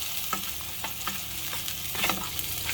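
Garlic fried rice (sinangag) sizzling in a pan as it is stirred, with steady frying crackle and scattered scraping strokes from the spatula, close and moderately loud with no talk.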